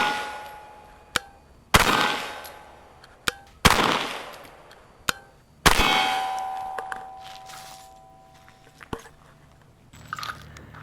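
Pistol fired with a camera mounted on it, the slide cycling through each shot: several sharp, loud metallic cracks spaced a second or two apart, each followed by a ringing clang and decaying rattle, with smaller clicks between.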